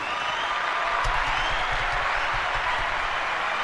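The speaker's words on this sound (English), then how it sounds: "I want to give a round of applause to my guy" Steady crowd applause fills the room, a dense wash of many hands clapping at even loudness from start to finish, with a few low thumps underneath.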